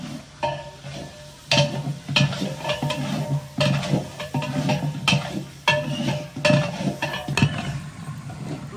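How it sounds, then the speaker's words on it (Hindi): Meat being stirred in a pot on a stove, a rhythmic series of scraping strokes and metallic clinks about every second, with soft sizzling underneath and no talking. "और इसे अच्छी तरीके से मिक्स कर देंगे।"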